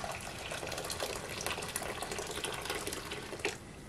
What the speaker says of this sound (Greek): καυτό νερό μέσα